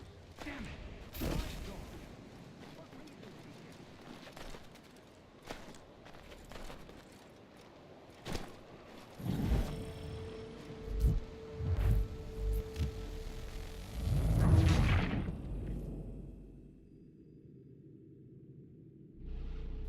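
Heavy booms and sharp blasts of cannon fire in Assassin's Creed III ring out irregularly, with rumbling echoes and scattered clatter before the din suddenly cuts to near silence.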